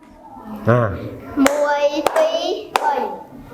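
Three sharp, separate hand claps ring out about half a second apart, close and crisp, between bursts of someone talking.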